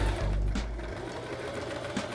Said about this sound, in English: All I'm doing is inserting the fabric into my sewing machine.